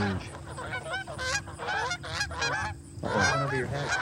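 A group of eight geese honk repeatedly as they set their wings to land on a pond during a goose hunt, with loud overlapping calls arriving in bursts, fairly close.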